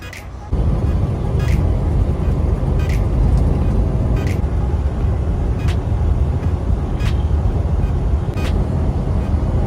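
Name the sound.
semi truck with stepdeck trailer driving on the road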